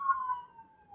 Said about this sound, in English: I was letting the ambulance go by.